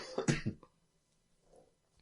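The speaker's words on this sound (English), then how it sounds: "I'm going to cough" A short burst of two or three harsh coughs, close by, then near silence with a faint rustle.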